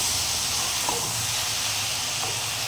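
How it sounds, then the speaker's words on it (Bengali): Ridge gourd and sliced onion fry in a pan with a soft, constant sizzling hiss, low and continuous, with faint clicks of the pan now and then. "ঝিঙে পেঁয়াজটা এখানে ভাজা ভাজা হয়ে গেছে"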